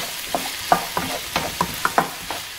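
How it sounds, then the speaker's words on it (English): Ground pork and vegetables being stirred and mixed in a hot pan with sesame oil, giving a steady series of scraping stirs over a soft sizzle, close and alone with no talk. "So now, what I do is I mix it together."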